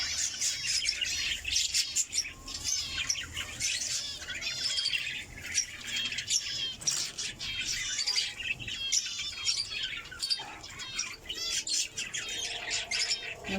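Caged budgerigars chirp and squawk in dense, continuous chatter, with many overlapping warbles and sharp calls, close and lively.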